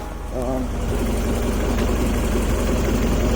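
A Honda Civic EK coupe idles with a steady, low, even engine hum at close range, and a voice talks briefly at the start.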